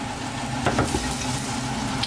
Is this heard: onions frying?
yes